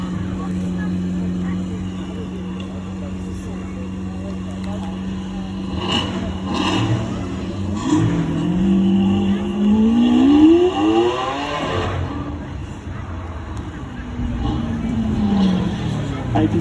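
A mid-mounted V12 Lamborghini at a drive-by event, its engine droning steadily and then rising in a revving sweep as it passes nearby, tailing off before another swell, with people talking over it.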